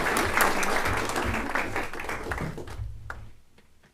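Audience applause at a school district board of trustees meeting, a dense burst of clapping that stays loud for nearly three seconds, then thins out and fades to a few scattered claps.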